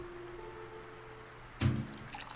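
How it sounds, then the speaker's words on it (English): Oil from a can splashes into a lamp in an adventure game, a brief liquid pour arriving suddenly after a quiet, humming stretch. "Pour some oil inside the lamp"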